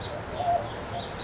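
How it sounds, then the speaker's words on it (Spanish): Small birds chirp and coo faintly around a green park, one brief clearer call standing out over a soft, steady outdoor background. "¿Se oyen los pajaritos?"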